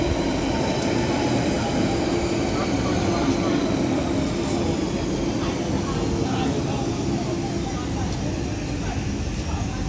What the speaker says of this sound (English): Now arriving in is going to be another London Underground Central Line 1992 stop for Epping from